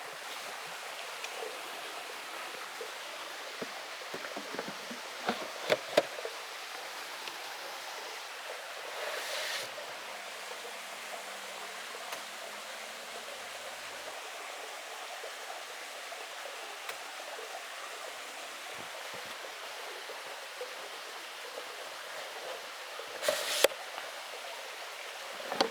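Waterfall at Rocky Fork Gorge heard as a steady, soft broadband rush of falling water, constant and unbroken throughout, with a few brief louder bursts and scattered small clicks nearby.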